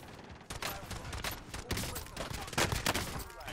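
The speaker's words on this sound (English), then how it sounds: "Oh god, shooting at me." Rapid bursts of gunfire in Call of Duty Warzone, a dense run of sharp repeated shots at close range lasting throughout with brief gaps, under occasional voices.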